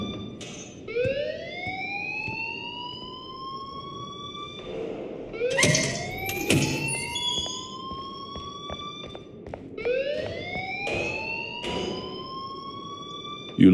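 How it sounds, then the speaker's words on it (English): A school fire alarm in the video game Life Is Strange sounds loudly in repeated rising, siren-like whoops, each sweep climbing in pitch and repeating every few seconds, with low background noise underneath. "please turn off that alarm since that's your job"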